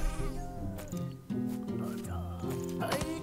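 Sheep in the crafting game Craft the World bleating several times in quick succession, close and clear, with overlapping wavering cries filling the short stretch.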